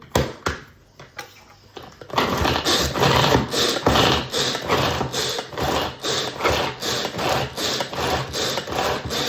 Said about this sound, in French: dans mon Maxi Tornado, on va mixer le jambon.